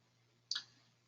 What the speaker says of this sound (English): I'm just going to click this equation editor button again